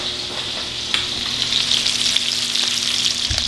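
Liver fries in butter with salt, a loud, dense, continuous sizzle that crackles close up with no one speaking.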